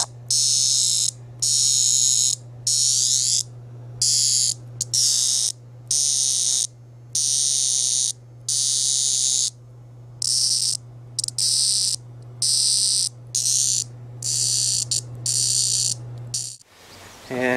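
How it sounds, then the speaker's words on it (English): A cicada held in hand and gently squeezed gives a loud, rasping high buzz in repeated bursts of roughly a second, separated by short gaps, over a steady low hum through most of the stretch. "And every time you give it a gentle squeeze, it buzzes."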